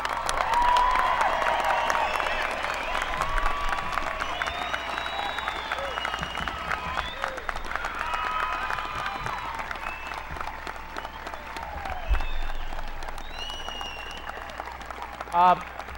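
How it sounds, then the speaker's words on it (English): Crowd at a high school graduation ceremony applauding the class of 2005 with sustained clapping and some cheers and whistles, voices calling out within it, fading slightly toward the end. "how about one round of applause for the class of 2005?"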